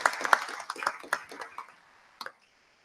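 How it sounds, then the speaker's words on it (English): Brief scattered clapping from a small audience at a school district board of education meeting, a few irregular claps fading out after about two seconds. "Can we give them all a nice round of applause for congratulations on achieving tenure"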